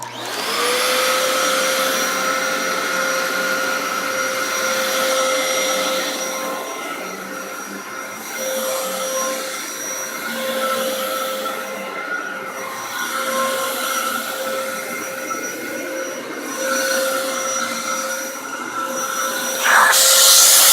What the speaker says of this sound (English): So, now we're going to go with the nozzle.